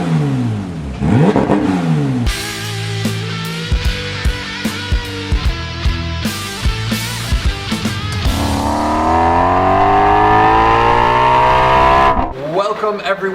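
A Porsche 991 GT3 with a Sharkwerks muffler-delete exhaust revs hard, rising and falling in repeated loud blips before a long climbing rev, close and dominant with no talk over it.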